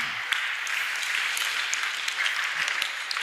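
A church congregation breaks into steady applause, a dense, even wash of clapping that continues throughout without clear pauses.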